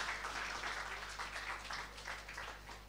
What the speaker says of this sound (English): applause to our faculty members who are here with us today